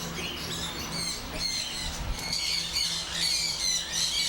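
Many colorful parrots squawk in a spacious bird farm holding several hundred birds, overlapping harsh shrieks and chatter from several directions, loud and continuous, with no talking.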